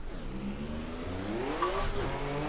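A turbocharged drift car screams at high revs, its engine note surging up and down in quick clutch-kick bursts, loud and continuous with no pause.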